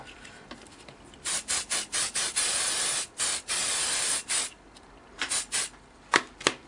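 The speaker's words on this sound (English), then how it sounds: "just use a bit of spray adhesive for this one" Spray adhesive hisses from an aerosol can onto a scrap of paper in a string of short, close bursts with brief pauses, then a few longer sprays and quick final puffs.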